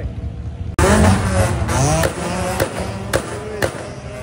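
An old-model VW Beetle Convertible's loud engine roar kicks in abruptly and revs with wavering pitch, punctuated by sharp bangs, with a voice exclaiming over it.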